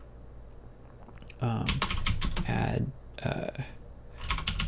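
Typing on a computer keyboard, a close rapid patter of key clicks in short bursts with brief pauses, with someone talking briefly over it.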